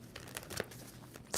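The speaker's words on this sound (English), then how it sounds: "2 more shuffles" Tarot cards being shuffled by hand, a few quiet crinkly riffles and slaps with a sharper burst near the end, close and fairly faint.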